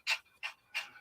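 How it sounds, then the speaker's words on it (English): Close, heavy panting from a dog, three quick breathy huffs in rapid succession. "that's where you hear the heavy breathing. That's not me. That's my dog up here, Rocky."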